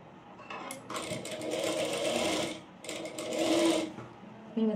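A sewing machine stitches pleated petticoat fabric in close bursts of rapid whirring, two long runs split by a brief pause, with no speech over it.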